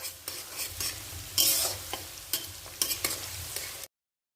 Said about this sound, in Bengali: পেঁয়াজ দিয়ে আমি এভাবে নেড়ে চেড়ে নেব।